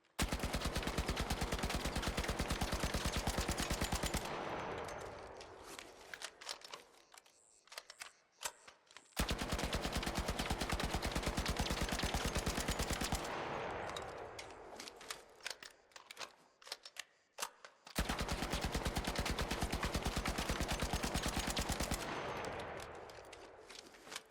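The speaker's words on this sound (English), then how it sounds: "the wall test to see how the weapon spray pattern evolves with vertical grips on a full mag dump" Tempest rifle fitted with vertical grips in ARC Raiders emptying a full magazine, loud rapid automatic fire in three long sustained bursts, each trailing off into echoing decay and scattered clinks before the next volley.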